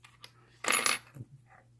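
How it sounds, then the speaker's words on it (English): Two small lock pins from an American 1305 padlock drop onto a hard surface, giving a brief bright metallic clatter and a faint follow-up tick, close and alone in a quiet room. "I'm just going to drop those 2 because I don't think they're going to be any different."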